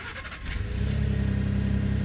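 A red Ford F-150 Lariat 4×4 starts remotely, and the engine catches after a brief crank and settles into a steady, low idle rumble, heard from near the rear of the truck.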